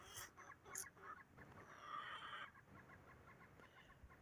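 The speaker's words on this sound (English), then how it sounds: "Chicken's freaking out. Always." Chickens cluck and squawk in agitation outdoors in winter, several excited bursts in the first few seconds trailing into quieter scattered clucks, faint and somewhat distant.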